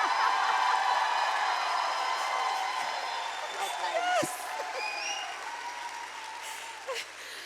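A conference hall audience at the FiLiA 2021 opening breaks into dense applause with a few whoops and cheers, loud at first and gradually thinning as the clapping tapers off.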